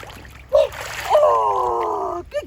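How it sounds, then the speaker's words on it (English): A young child's head is dunked into swimming pool water, bringing a brief splash followed by a long, rising child's cry or squeal, loud and close, with a short vocal sound at the end. "Sophie, are we gonna get your head wet?"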